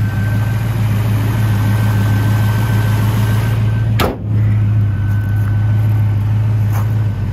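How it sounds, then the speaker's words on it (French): A 1964 Ford Mustang with its 260 cubic inch V8 idles steadily and loudly with a smooth low rumble, a brief dip in the middle, and no talking. "Et vous voyez que cette voiture tourne à merveille."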